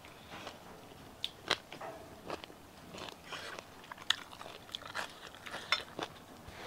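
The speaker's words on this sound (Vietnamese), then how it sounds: "em lại thích ăn gà công nghiệp. Nó mềm dễ nhai." Someone chews and bites soft factory-farmed chicken at a simple year-end meal on a hillside farm plot, with close, repeated crunchy bites and wet chewing in an irregular rhythm and no talking.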